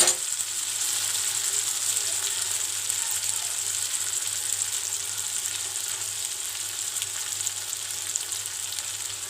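Schezwan noodles sizzle steadily in a hot pan after soy sauce is added, a continuous loud frying hiss with faint stirring, close by and without talk.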